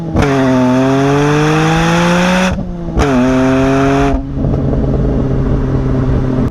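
A BMW E46 M3's exhaust drones loudly and steadily as the engine revs rise and fall, close and continuous, with a brief lift-off between pulls.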